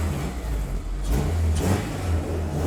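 A turbocharged Miata engine blipped with a twitchy throttle, its steady low drone rising in short revs, close and prominent with no talking.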